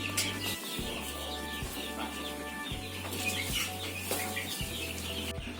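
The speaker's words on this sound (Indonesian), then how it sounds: "Jadi ini ayam-ayamnya alhamdulillah semuanya sehat." Young roosters, about 26 days old, cluck and chirp in a coop, with wings flapping now and then over a steady background hum, fairly close and with no talking.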